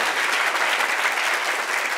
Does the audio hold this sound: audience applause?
yes